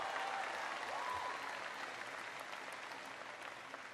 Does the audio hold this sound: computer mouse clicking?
no